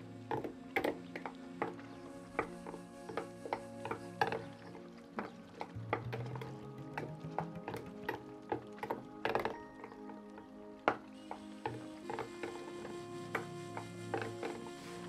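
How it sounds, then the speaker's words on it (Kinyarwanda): Dry pancake ingredients, a flour-like mix, stirred together in a bowl, giving a steady run of close, quiet clicks, taps and soft scrapes for the whole stretch, with no talking. "Noneho tuze kubivanga."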